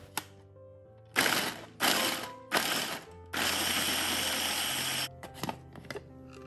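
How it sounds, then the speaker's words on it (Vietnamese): A blender purees about 160 g of chopped beetroot, half a large beet, for coloring. It runs in several short pulses, then one longer two-second run, fairly quiet and close. "Mình cắt nhỏ và cho vào máy mình xay cho nó nhuyễn."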